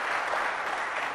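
An audience at a Clinton School event for a senator gives a brief burst of dense, even applause.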